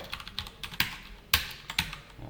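Close computer keyboard clicks while HTML button tags are typed during a CSS grid exercise on a shopping-site header, with sharp separate keystrokes in an uneven rhythm and a few louder ones standing out.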